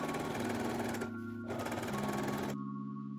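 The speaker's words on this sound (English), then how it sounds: "Sew them together at the pocket opening." A sewing machine stitches a pants pocket bag to the front leg at the pocket opening, running in a fast steady buzz, pausing briefly, then resuming and stopping near the end.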